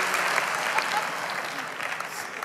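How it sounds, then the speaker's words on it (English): A church congregation at a Hillsong service claps together in a brief, steady burst of applause that fades slightly toward the end. "if you believe it, just clap your hands for 2 minutes"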